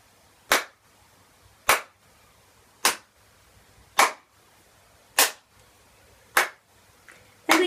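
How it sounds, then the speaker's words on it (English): Sharp, evenly spaced hand claps during a seated movement exercise, seven crisp claps about a second apart, fairly loud against a quiet room. "Then we clap our hands for 8."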